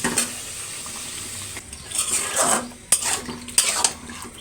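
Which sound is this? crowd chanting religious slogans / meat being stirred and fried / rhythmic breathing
meat being stirred and fried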